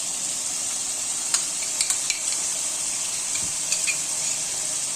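Yogurt mixed with pickle masala added to an aloo lobia achari pulao, a constant bright sizzle of frying filling the clip, with scattered light clicks of a spoon stirring, close and fairly loud, with no talking.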